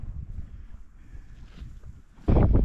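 Low, rumbling wind buffets the microphone on a cold January day, steady throughout and surging into a loud, close gust near the end.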